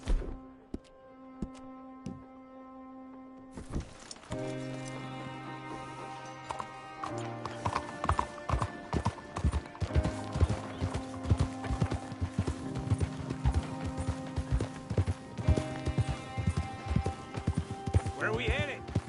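Horse hooves gallop in Red Dead Redemption 2, a steady rhythmic clip-clop that builds and runs on under background game music and sound effects, with occasional thuds.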